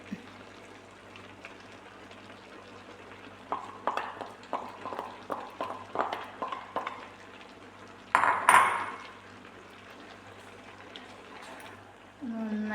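Coconut paste being stirred into avial in a metal pot, heard as a steady series of light clinks and scrapes of a spoon against the pot, then a louder clattering scrape, over a low steady hum.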